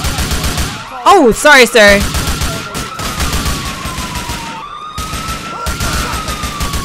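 A GTA 4 shootout with rapid bursts of gunfire and a wailing police siren close by, loud and continuous, while someone talks over the action.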